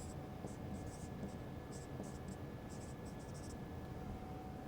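Marker or chalk strokes on a board during a thermodynamics lecture on units, in quick scratchy bursts of writing separated by short pauses, close and fairly quiet.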